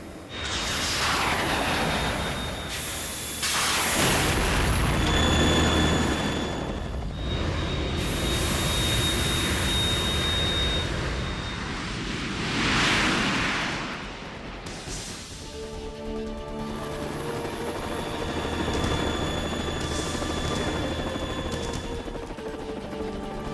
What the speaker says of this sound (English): The Kasaka can't stand up to the Harrier. You have to shoot the Harrier down.